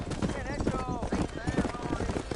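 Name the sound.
horse hooves in video game Red Dead Redemption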